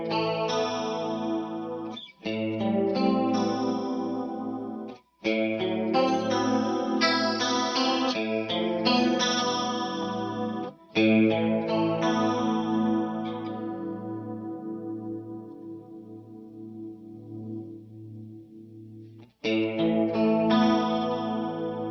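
Electric guitar played through a Suhr Woodshed Comp compressor pedal with a shimmering chorus-like effect, ringing chords and melodic phrases sustaining smoothly, one long chord fading out before playing resumes.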